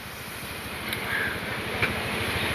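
A waterfall beside a bridge along a mountain road pours with a steady, broad rushing roar, constant and fairly close, with no voices over it.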